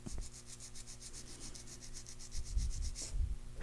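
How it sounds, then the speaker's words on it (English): Acrylic gel nail being filed with a 180 Zebra nail file makes rapid, regular rasping strokes, close and fairly quiet, with a few heavier scrapes near the end. "First step in filing, file straight out from the nail groove on the right."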